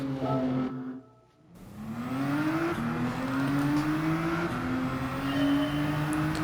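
A race car in Gran Turismo 7 revs its engine loudly, briefly dipping, then climbing steadily through the gears in a continuous rising whine with no talk.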